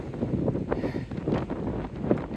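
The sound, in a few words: wind blowing on a hiking trail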